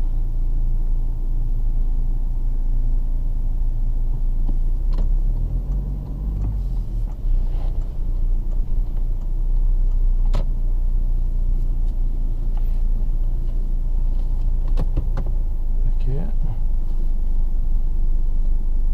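Diesel engine of a 2016 Toyota Hilux pickup idling and rumbling steadily at low revs during parking, a continuous close, loud drone with slight swells and a few faint clicks.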